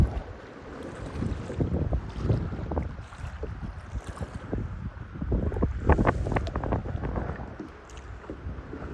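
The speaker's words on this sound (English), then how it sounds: "That wind is really pushing." Strong wind buffets the microphone on a kayak on a choppy lake, with waves slapping and splashing close by in an uneven, continuous roar.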